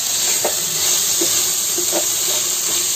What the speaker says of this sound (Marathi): म्हणजे तो लसूण मिरची ती सर्व फ्राय व्हायला पाहिजे तेलामध्ये.